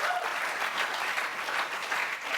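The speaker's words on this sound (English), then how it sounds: "See how they applaud when I say your name?" A studio audience applauding on a late-night political talk show, a steady wash of clapping at moderate level with no voices over it.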